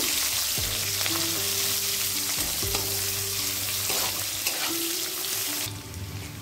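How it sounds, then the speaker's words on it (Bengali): Chopped onion sizzles steadily in hot oil with cumin seeds and torn dried red chillies, a dense, continuous crackling hiss with a low steady hum beneath, close and fairly loud throughout. "এবার পেঁয়াজ কুচিটাকে একটু ভেজে নেব"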